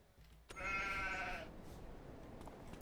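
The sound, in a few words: sheep bleating in video game Farming Simulator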